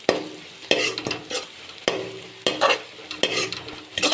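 Ginger garlic paste fries with onions in a pan, giving a steady sizzle broken by repeated scraping stirs every half-second to second.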